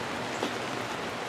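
Steady rain falling outside, a soft even hiss of drops with no distinct individual hits, moderately loud and continuous throughout.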